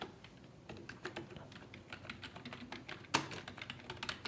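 Keystrokes on a computer keyboard while a color name is entered in a design program, a steady run of quick, light clicks close to the microphone with one sharper tap, no talking.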